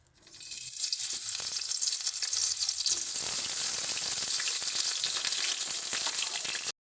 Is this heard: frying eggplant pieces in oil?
yes